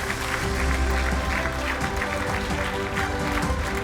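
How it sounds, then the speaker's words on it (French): A conference audience gives sustained applause, a dense, steady roar of many hands clapping throughout, with faint voices mixed in underneath. "Applaudissez-la très fort."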